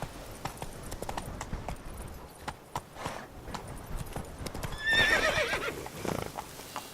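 Roach, a horse in The Witcher 3, gallops with steady clip-clop hoofbeats throughout, then lets out a clear whinny near the end, close and fairly loud over ambient game sound.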